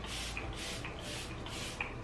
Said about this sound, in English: So now I'm gonna set my face, and this is a setting spray